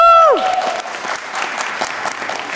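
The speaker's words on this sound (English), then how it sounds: "I think you can give a round of applause." Audience applause at a personal safety class, a broad steady wash of many hands clapping that rises as a tone fades at the start and carries on at a moderate level.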